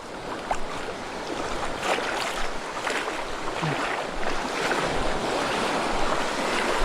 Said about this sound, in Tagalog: buti na lang kalmado yung dagat ngayon kahit na may parating na bagyo